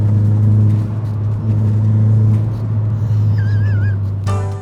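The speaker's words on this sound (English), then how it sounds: "That turbo sounds like it's like that." A turbocharged car engine drones with a heavy, steady low rumble, and a wavering turbo whistling whine rises briefly near the end.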